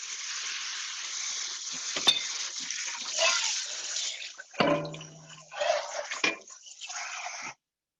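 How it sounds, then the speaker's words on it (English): Warm water poured from a tap into a bowl for a Vietnamese-style beef lettuce wrap sauce, a close, hissy splashing stream with brief gurgles and interruptions before it stops abruptly. "the recipe I'm calling for is half a cup of warm water. I'll put some in here real quick"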